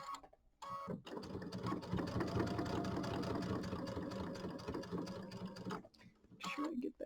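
A sewing machine stitches down quilt binding on a mini quilt, running steadily for about five seconds with a fast mechanical whir, close and moderately loud, with short pauses before and after.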